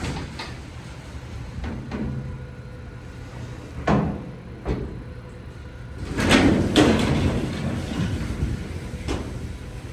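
Heavy vintage Dover hydraulic freight elevator doors are pulled shut inside Harrington Tower, giving a few knocks and thuds and then a louder rumbling slide and clunk over steady background hum.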